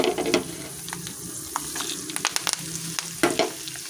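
Dried red chillies frying in hot oil for a tempering crackle with a continuous sizzle, broken by sharp pops and spoon scrapes that cluster in quick bursts, close and fairly loud.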